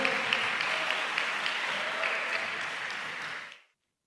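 Lively applause from a group at a school iftar gathering and university admissions announcement, steady and close for about three and a half seconds before cutting off abruptly into silence.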